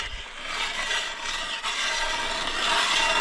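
A steady, harsh grinding rasp carries on without a break as a new hand ice auger cuts through lake ice while ice fishing in Finland, close and fairly loud.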